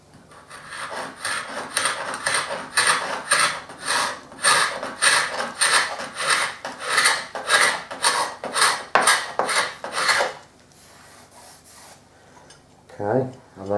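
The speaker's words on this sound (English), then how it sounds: "So just with the paint scraper, carefully just start to draw it down." A paint scraper drawn down old painted woodwork makes a run of rhythmic rasping strokes, about a dozen close, even scrapes. They stop and give way to quiet with a brief shuffle at the end.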